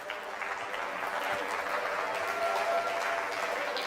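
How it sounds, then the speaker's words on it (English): An audience at an upper school recognition ceremony applauds, a dense, steady wash of clapping from many hands that fills the room and holds throughout. "Easiest round of applause I've ever had"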